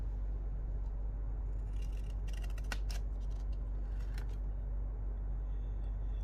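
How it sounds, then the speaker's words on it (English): Scissors make a few crisp snips through a paper scrap, cutting a book page pocket tag, close up over a constant low electrical hum. "we're going to snip it out over here like this."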